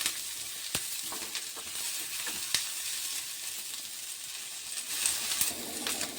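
Onions fry in oil with a steady soft sizzle, broken by a few sharp stirring clicks against the pan, all fairly quiet and close.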